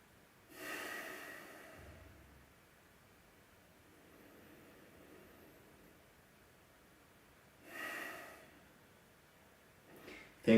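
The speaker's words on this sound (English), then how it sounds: "3 deep breaths." Deep breaths at the close of a live martial arts and combat sports training session, with two slow, audible inhale-exhale sounds a few seconds apart against a quiet background and no talking.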